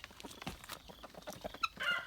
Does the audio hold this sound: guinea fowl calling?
yes